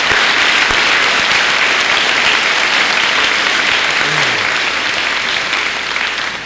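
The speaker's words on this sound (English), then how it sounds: "So give yourselves a round of applause saying thank you very much." Applause from a high school graduation audience at a 2002 ceremony: loud, sustained clapping from a large crowd, continuous and dense, tapering slightly at the end.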